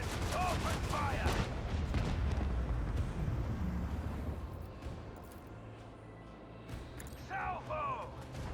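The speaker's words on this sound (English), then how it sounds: "Macro cannons, open fire!" Dense bursts of heavy macro cannon fire and mechanical clatter from the video game Rogue Trader rumble continuously, loud and layered, with brief electronic chirps near the start and end.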